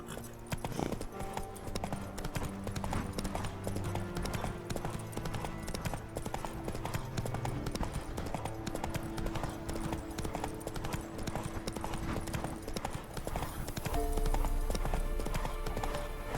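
Horse hooves in The Witcher 3: Wild Hunt video game, a quick, steady clip-clop of galloping hooves running throughout, up close and fairly quiet, with game music underneath.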